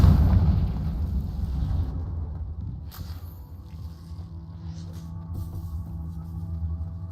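A Confringo spell explosion in the video game Hogwarts Legacy opens with a loud, deep booming blast that rumbles and fades over several seconds, leaving a low lingering hum with faint clicks afterward.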